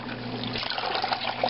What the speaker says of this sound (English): take them out of the water.